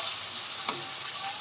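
Pota kaleji (goat offal) frying in oil in a pan, a steady soft sizzle with two brief scraping clicks as it is stirred, close and alone without talk.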